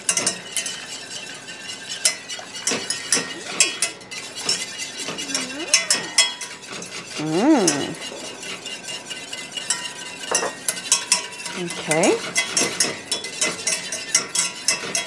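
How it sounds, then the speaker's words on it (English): A whisk beats egg yolks into melted butter and beef broth in a kitchen bowl, giving fast scraping and clinking strokes close by, with a brief murmured voice at one point. "I'm going to add them into the melted butter and beef broth. And I'm gonna whisk real fast while I'm doing that."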